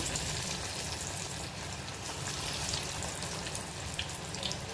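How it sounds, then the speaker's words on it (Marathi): Small dal vada fritters made from mixed lentils fry in hot oil, giving a dense, steady crackling sizzle that fills the whole stretch at an even, moderate level. "तेल आपलं चांगलं तापलं आहे छोटे छोटे भजी त्यात सोडूया"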